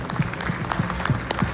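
Audience applause at a team presentation of E-Trophée Andros 2020 drivers, a short burst of scattered clapping that sounds thin and moderately close.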